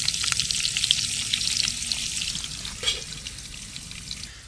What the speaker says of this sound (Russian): Это салями жареные.